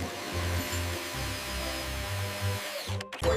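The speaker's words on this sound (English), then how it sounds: "Spin, drill." A power drill spins in short bursts, its steady motor whine starting and stopping several times, then cutting out briefly before a final burst near the end; close and fairly loud, with no talking.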